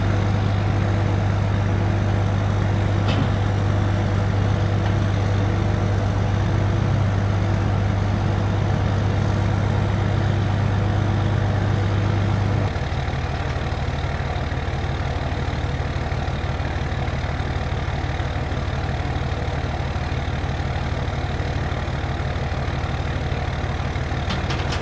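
A truck engine idles steadily after a smoky start-up, a continuous low rumble close by; partway through, the pitch and tone of the idle drop and settle into a lower drone.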